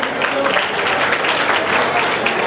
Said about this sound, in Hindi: जोरदार ताली बजाकर इनका स्वागत और सम्मान करें